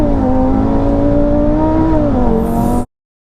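A 740bhp Audi RS3 accelerates hard in first gear with wheelspin, its engine droning loud and close in a strained, rising and dipping note before cutting off abruptly.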